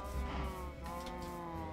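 A cow in the video game Minecraft gives a low, drawn-out moo that fills most of a short stretch, loud and close, with faint game ambience beneath.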